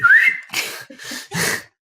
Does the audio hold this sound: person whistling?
yes